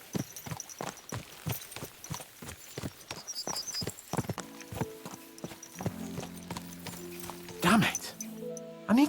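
Horses' hooves clip-clop in a steady, fast rhythm through most of the clip in the medieval video game Kingdom Come: Deliverance 2, with a horse snorting and whinnying and someone talking over the later part.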